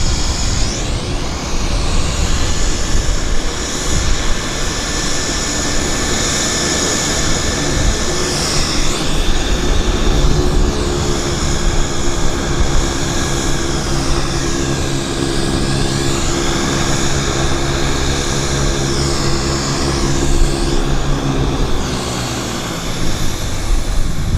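Air Canada Flight 025 airliner bound for Shanghai Pudong at Vancouver Airport, its engines giving a loud, steady roar that holds for the whole stretch with slowly shifting tones, no voices over it.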